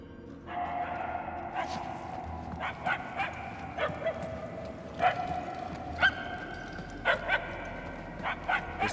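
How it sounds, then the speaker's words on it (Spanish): A dog barks repeatedly in Marvel's Guardians of the Galaxy video game, a series of medium-loud, slightly distant yips and barks in irregular bursts over a low ambient hum. "Los ladridos se debilitan."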